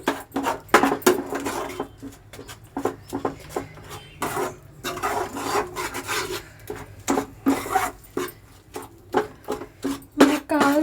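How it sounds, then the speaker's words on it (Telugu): Jaggery being stirred in a pan for bitter gourd pickle, with a spoon scraping and rasping against the metal in quick, uneven strokes that repeat steadily and sound close by. "బెల్లం కూడా కలిసేలాగా అలా తిప్పుకుంటూ ఉండాలి"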